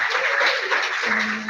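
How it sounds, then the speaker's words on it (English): Workshop attendees applaud themselves at a student engineering club meeting, a steady wash of clapping from the room that holds for about a second before a low hum enters and the clapping carries on over it. "So give yourselves a round of applause"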